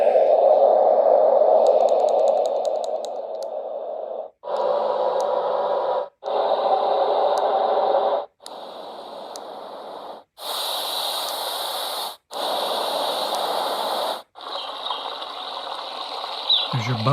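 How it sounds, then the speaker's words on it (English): A Babelio white noise machine plays a steady fan-like hiss at close range, stepping through several continuous noise settings separated by short silent breaks, loud throughout with no talking. "So there's your fan."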